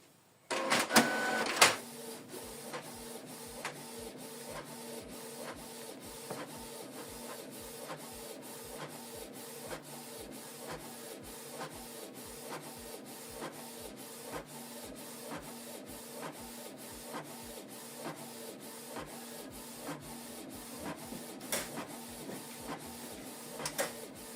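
A Canon TS3355 printer prints a document, with a quiet, steady run of rhythmic mechanical clicks and whirring feed noise repeating evenly throughout.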